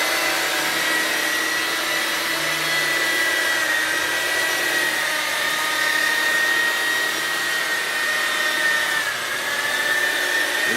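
A polishing machine with a foam pad buffs car paint to correct defects, giving a steady, loud whirring drone with a constant high motor whine that holds nearly unchanged throughout, close by with no talk.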